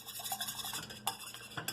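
Light scraping and clinking of a utensil stirring homemade playdough mixture into water in a bowl, with a couple of sharper taps against the side; close and fairly quiet.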